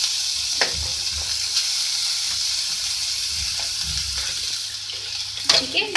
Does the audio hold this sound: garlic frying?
yes